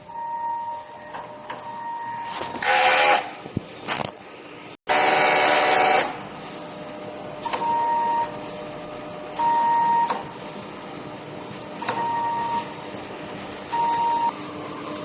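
A DTF printer running a head clean cycle, with a low mechanical hum broken by several bursts of pump and carriage noise and a series of short electronic beeps spaced a couple of seconds apart.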